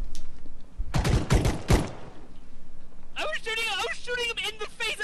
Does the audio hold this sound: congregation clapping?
no